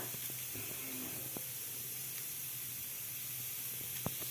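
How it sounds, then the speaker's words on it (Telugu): Small bitter gourds frying in a pan give a soft continuous sizzle and hiss throughout, steady and fairly quiet, with a few faint clicks and a light voice. "ఇలా కడుక్కున్న వాటిని పెన్నం పైన అయితే వేసాను వేసి వేయించుకోవాలి బాగా"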